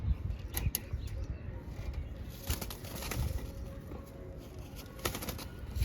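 Pigeons shuffle and flutter softly in a quiet outdoor spot, with a few brief wing flaps and faint coos over steady low background noise.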